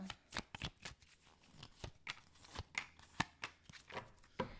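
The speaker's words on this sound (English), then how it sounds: "Last shuffle." Tarot cards are shuffled close to the mic, a soft series of quick riffling flicks and taps in an irregular rhythm, quiet and without speech.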